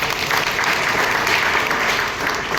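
Children clap together at a government school vachana recitation competition in Nanjangud, a loud, dense burst of applause sustained evenly throughout.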